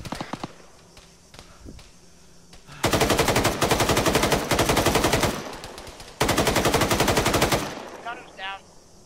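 Heavy DShK machine gun fire in ArmA 3, two long sustained bursts of rapid, loud thudding shots, each lasting a few seconds, with quieter battlefield noise between them and a brief voice near the end.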